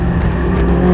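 A Hayabusa-powered Westfield car on a race track, its engine roaring loud and close in one continuous high-revving drone.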